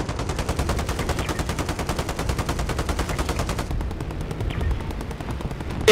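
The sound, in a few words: gunfire exchange in video game Call of Duty Modern Warfare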